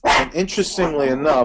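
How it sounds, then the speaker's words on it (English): A pet dog barks repeatedly at a bear outdoors, sharp close barks in an uneven run mixed in with someone talking over them. "that's my dog barking at a bear"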